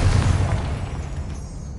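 A Confringo blast spell going off in Hogwarts Legacy, heard as a deep, heavy boom that rumbles on and fades slowly over about two seconds, with no other sound over it.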